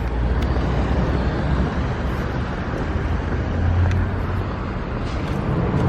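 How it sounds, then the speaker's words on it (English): Los Angeles street traffic rolling past in a steady, dense rumble of engines and tires, loud and continuous with some wind buffeting the microphone and no voices. "Crazy LA traffic."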